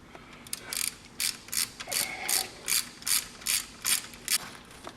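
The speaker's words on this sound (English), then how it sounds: "I'm going to remove these two 10 mil from this bracket here" A ratchet wrench backs out two 10 mm bolts from the battery box bracket of a GMC Yukon, giving about eleven quick, evenly spaced bursts of sharp clicking, close and clear with no talking.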